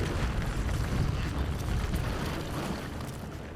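A bomb explodes in the Resident Evil Village video game, a dense, rolling rumble that stays loud and heavy throughout and slowly fades toward the end.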